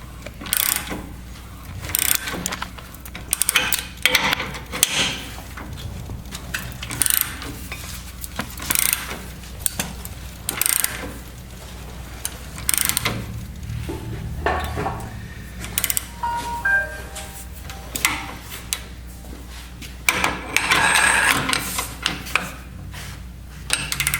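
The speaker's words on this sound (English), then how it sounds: "Going to be cranking this ball joint in by hand because again the stanchion's in the way." A ball joint on a Crown Victoria or Grand Marquis front suspension being pressed in by hand with a hand-cranked press, giving repeated ratcheting clicks and metallic creaks in irregular bursts, close up with no talking.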